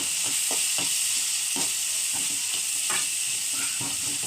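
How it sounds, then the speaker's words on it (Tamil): Spoon stirring poha with vegetables, turmeric and salt in a hot pan, steady sizzling hiss broken by repeated scraping strokes at an uneven rhythm, close and alone. "இது சேர்த்து நல்லா கிளறி விட்டுக்கலாம்."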